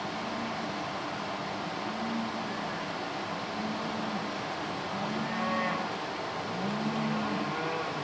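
Cows in a farming video game moo repeatedly in low, drawn-out calls spaced a second or two apart, over a steady hiss of background noise.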